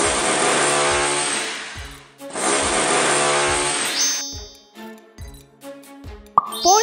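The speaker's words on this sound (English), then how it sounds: "Make a hole with a driller." A power drill in a kids' video game bores a hole into an empty plastic bottle: two long, steady whirring bursts with a short pause between them, over soft rhythmic background music.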